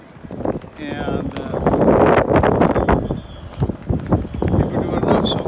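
Cold wind gusts across the open Jinbu Olympic plaza at the Pyeongchang Winter Olympics, buffeting the microphone in a loud, continuous rumble while a person talks over it.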